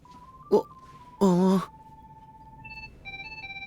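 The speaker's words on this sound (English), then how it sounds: "You're making a funny noise out of your pocket. What could that be? And why does it sound like a ringtone?" A phone ringtone sounds from a character's pocket in the video game Kingdom Hearts III, a sequence of electronic tones and a brief melodic jingle, with short bursts of in-game voice between the beeps.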